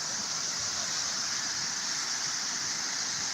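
The Grande River in Jamaica rushes steadily where the Dry River joins it, a dense, even roar of flowing water with no talking over it.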